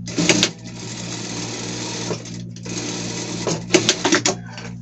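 Sewing machine stitching a seam on fabric, a steady loud mechanical whir in two long runs with a brief pause between, ending in a few quick choppy bursts.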